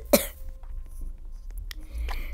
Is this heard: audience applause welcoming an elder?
no